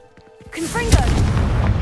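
A Confringo fire spell in Hogwarts Legacy goes off as a sudden booming blast after a short voiced cast, then a rumbling tail lingers for over a second.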